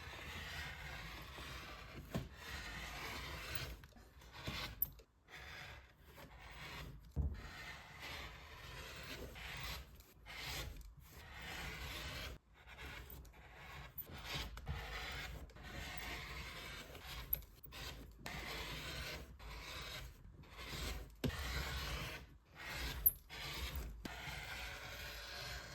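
White fabric pieces for a sewn baby book are being cut, a faint, close run of soft rubbing and snipping sounds with short pauses between cuts and no talk.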